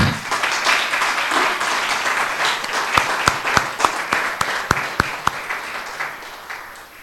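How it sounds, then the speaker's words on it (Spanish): Church congregation applauding during a thanksgiving service, a dense wash of clapping that thins out, leaving several loud, sharp individual claps near the end. "Démosle un aplauso al Señor."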